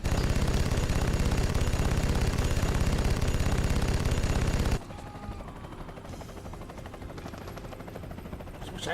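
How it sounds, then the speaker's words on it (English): Aircraft machine gun strafing run in a flight combat video game: dense rapid-fire rattle blasting loudly for several seconds, then cutting to a quieter engine drone with distant fire. "I wish I was better at doing strafing runs and eliminating these guys on one pass."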